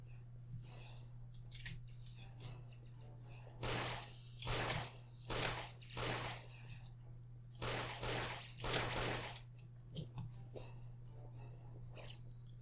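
Shotgun blasts from a big, wide-spread blunderbuss-style weapon in the game DynaMarisa 3D, several sharp bursts in quick pairs and clusters over a steady low hum, fairly faint overall.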